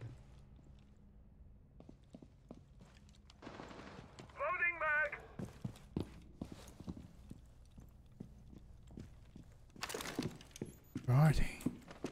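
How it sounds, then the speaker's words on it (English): Footsteps in the Rainbow Six video game: a run of soft, regular steps patters close by, broken by louder bursts of gunfire-like cracks near the end. "I can hear footsteps."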